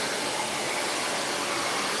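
A hair dryer blasts continuously at close range during a salon blowout, a loud, even rushing of air.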